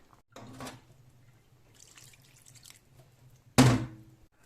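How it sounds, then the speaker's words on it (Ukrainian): Water poured into a pot of groats on a stove, a couple of short splashes and pours with a low hum between them and a louder final gush. "Слід додати удвічі більше води, ніж було крупи."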